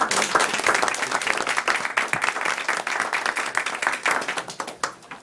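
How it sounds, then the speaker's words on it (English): Audience applause fills a board meeting room, a steady patter of many hands clapping at close range that holds for several seconds before tapering off at the end. "let's give her a round of applause"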